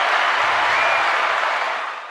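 A crowd applauds loudly at a live talk show, dense sustained clapping that fades toward the end.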